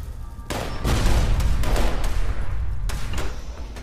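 Grenade blasts in the game Fallout 76 hit as loud booming explosions with rumbling tails, one after another, close by and dense.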